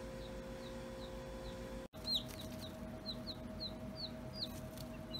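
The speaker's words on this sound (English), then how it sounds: "I gotta open up another incubator and count the baby chicks" Baby chicks cheeping inside an opened incubator, a steady series of high, thin peeps repeating every half second or so over a constant low machine hum, with one brief dropout in the middle.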